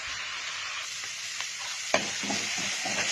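Chili and garlic stir-fried in a pan for a Thai basil stir-fry give a steady, close sizzle with scraping stirs and a few sharper clacks of the utensil against the pan.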